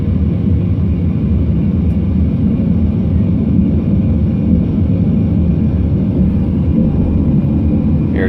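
An airliner's engines at takeoff thrust during the takeoff roll make a loud, steady, deep roar that holds unbroken throughout, heard from inside the aircraft.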